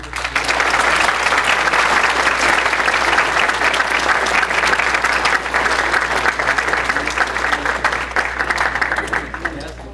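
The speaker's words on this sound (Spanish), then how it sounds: "Un aplauso, por favor." Sustained audience applause at a science and technology event, a full, even roar of many hands clapping in a hall over a low electrical hum, holding steady for ten seconds and easing slightly at the end.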